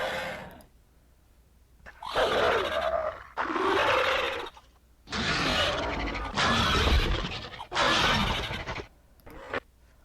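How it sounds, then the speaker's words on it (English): Harsh, raspy hissing calls and grunting roars from a large bird come in several bursts separated by short silences, close and fairly loud. "Let's see what an Indian condor sounds like."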